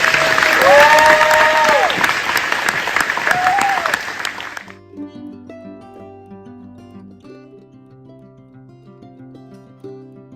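A fundraiser audience claps in a dense, loud round of applause for about four seconds, with a voice calling over it, before the clapping cuts off and quiet music carries on.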